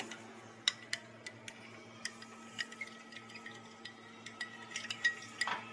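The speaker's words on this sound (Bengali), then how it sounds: "ভালো করে সব কিছু মিক্স করে নেব।" Spoon stirring milk, jelly, powdered sugar and soaked seeds in a glass for sabudana falooda sharbat, with irregular light clinks and ticks against the glass over a steady low hum.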